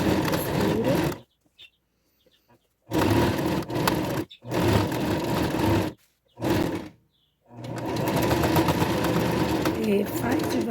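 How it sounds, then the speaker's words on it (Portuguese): A sewing machine stitches a curved seam on a pet bed cushion. It runs in loud, steady bursts with short silent pauses between runs, close up. "Aí eu vou passando a costura."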